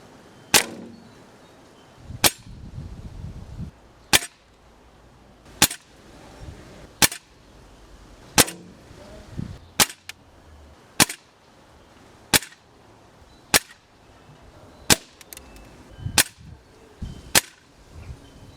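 Gamo PBA .177 caliber armour penetration airgun pellets fired one by one at a metal model tank, about a dozen sharp cracking shots with metallic impacts, evenly spaced over the stretch, no talking.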